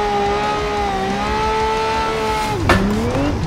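A Lamborghini in a driving-sim drift game holds a loud, steady high engine tone that dips as it slides through a corner under left-foot braking, then tires squeal briefly and the revs climb again.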